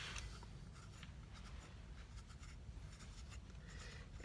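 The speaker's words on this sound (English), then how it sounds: "It's a butter knife, because you can get really deep in there, and it has some serrations to it that allow you to scrape the surface." A serrated butter knife scrapes and compresses the inner surface of a clay sculpture while its walls are thinned, a quiet, steady rasping rub with brief strokes, close and faint, with no talking.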